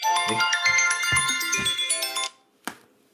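A phone rings with an incoming call: a bright electronic melodic ringtone plays loud and close for about two seconds, breaks off, and then a short click follows.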